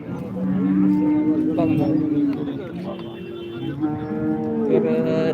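At a cattle market, cows moo in long, sustained calls one after another, fairly close, while someone talks over the lowing.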